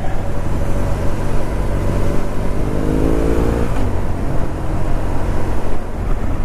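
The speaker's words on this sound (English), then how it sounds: "I'll just drive a bit." A car drives along in commuter traffic, giving a steady loud rumble of engine and road noise with wind buffeting throughout and a faint rising engine tone midway.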